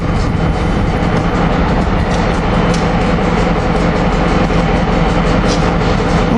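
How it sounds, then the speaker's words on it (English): Amtrak Northeast Regional Train 173 rolls into 30th Street station with a loud, steady rumble and faint rhythmic wheel clatter, continuous and close, with no talking. "Here we got Northeast Regional Train 173 coming in."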